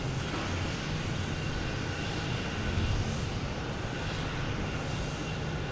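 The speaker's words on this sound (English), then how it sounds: "JetBlue A321." A JetBlue Airbus A321 lands at Boston Logan, and its jet roar holds steady and fairly loud throughout with a broad rushing texture.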